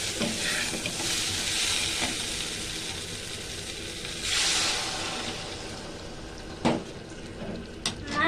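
Spices sizzle and fry in a pan with a splash of water for a Bengali rohu fish curry, a steady hiss with stirring scrapes and occasional clinks of utensil against the pot, no talking.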